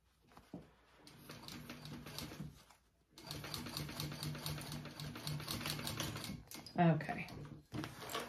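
A sewing machine stitches a short row along a bag seam in two bursts of rapid, even mechanical chatter, close and quiet, broken by a brief pause.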